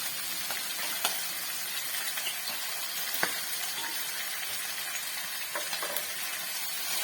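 Mutter paneer curry sizzles steadily in a frying pan while it is stirred, giving a constant hiss with a few faint scrapes and clicks of the spoon.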